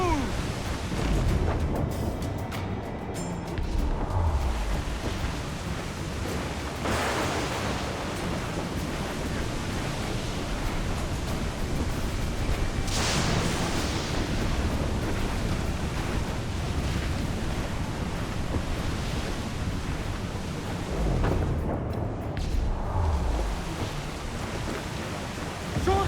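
Squall at sea in Assassin's Creed 4 Black Flag, with loud continuous roaring wind and crashing waves around a sailing ship, unbroken and close, with faint shouting voices under the din.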